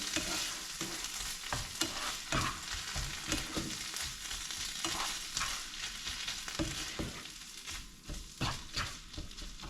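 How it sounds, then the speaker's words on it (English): Steady sizzling of chickpeas frying in a pan with French herbs, with clattering stirring and scraping throughout, close and continuous. "Just keep frying it until it gets a little bit gnarly."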